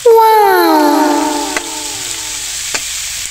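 Leftover lechon frying in a pan gives a steady sizzling hiss while it is stirred. A loud, drawn-out voice with falling pitch sits over the hiss at the start, and there are two brief clinks later.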